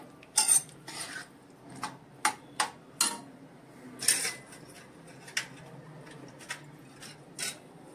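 A spoon scrapes and taps against a pot as Malvani-style pepper and fennel curry is stirred, with scattered soft clinks spread over a quiet background.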